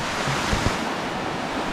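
Rushing river water swollen after two days of heavy rain, a steady broadband wash of flowing water with a faint low thump or two, heard alone with no voices.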